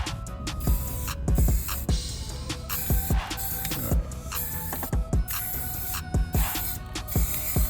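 Short bursts of white spray paint hiss from an aerosol can onto a Nerf Agility blaster, loud and close, in repeated quick sprays with clicks and handling knocks between them.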